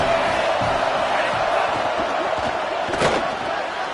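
Dense, continuous roar of a college football stadium crowd at a Washington versus Washington State game, loud and close with scattered shouts and a brief sharp burst near the end.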